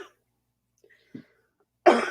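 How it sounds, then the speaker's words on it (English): A single short burst of coughing at close range, loud and broadband, coming after a couple of faint, brief sounds in an otherwise quiet room. "I had a cough"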